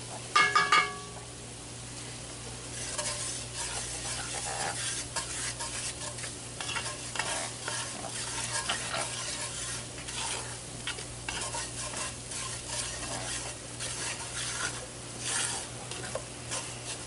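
Flour is stirred into hot oil in a Dutch oven for a shrimp gumbo roux, with the heat off. A spoon scrapes continuously through the thick mixture over a soft sizzle, after a few clinks at the start.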